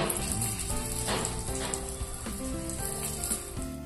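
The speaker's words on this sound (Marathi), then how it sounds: "आता तवा तापलाय, आपण एक कबाब त्याच्यात सोडून घेऊया।" Green pea kebab sizzles in oil on a hot griddle, a steady close sizzle running throughout with tonal music playing underneath.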